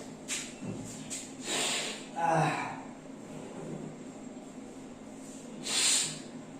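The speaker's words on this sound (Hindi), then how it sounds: "तब तक हम थोड़ा सा नाक साफ कर लेते हैं" A person blows and clears their nose in a few breathy, hissing bursts with short snorts, close to the mic, with pauses of quiet room noise between them and no talking.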